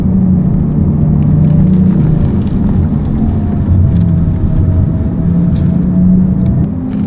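A low, humming synthetic drive tone rumbles steadily from a Genesis GV60 Performance electric car, with faint tonal sweeps layered over the continuous cabin drone.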